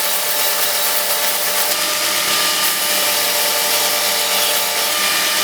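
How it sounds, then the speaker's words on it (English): Steady, loud abrasive grinding on a Damascus steel bottle opener during finish grinding before etching, a continuous broadband hiss and rasp that holds evenly throughout with no speech. "now it is time to finish grind so that I can do the etch"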